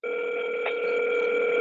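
A steady electronic telephone tone plays loud and close as a call to someone's mother connects and waits for an answer, with no voices.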